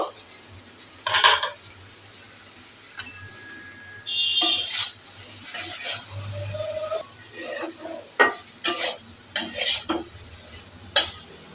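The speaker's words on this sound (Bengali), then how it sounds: "এখন নেড়ে দেব এখন আবার একটু ঢাকনা দিয়ে দেব আবারও ঢাকনা উঠিয়ে নেড়ে দেবো" Okra fries in a pan while a utensil stirs it, producing irregular scraping and clattering strokes over a light sizzle, with quiet gaps and a soft voice briefly in the background.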